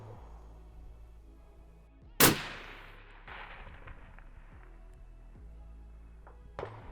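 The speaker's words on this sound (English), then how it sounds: "Now's a good time to take a shot." A single rifle shot fired toward a 1000-yard target cracks sharply at mid-clip, with a fainter echo trailing off a second later and a smaller report near the end, all over low outdoor rumble.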